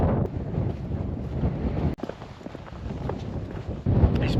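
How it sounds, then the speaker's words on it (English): Strong, steady wind buffets the microphone on an exposed mountain ridge on a cold day, a continuous low roaring rush with a brief dip near the middle before it surges back loud. "This wind's cutting right through me."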